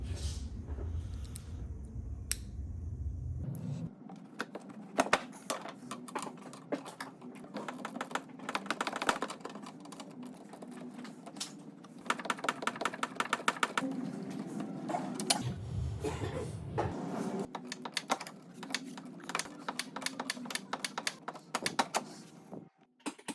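8mm screws come out of a Ford Edge front bumper at the fender, heard as bursts of quick mechanical clicking and ratcheting, with short quiet gaps between runs.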